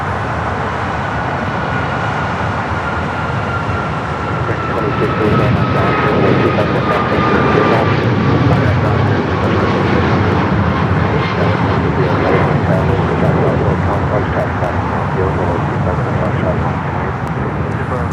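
United airliner jet engines roaring at LAX airport, a loud broadband rumble with a gliding whine that swells and holds across the whole stretch, with a voice talking over it.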